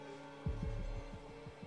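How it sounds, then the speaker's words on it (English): A heartbeat effect from the video game The Quarry: low, muffled thumps in a slow, steady rhythm over a faint hum. "you hear the heartbeats"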